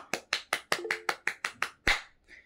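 About nine sharp handclaps in a steady, even rhythm, close and loud, from one person leading applause for a teacher, followed by a softer trailing clap.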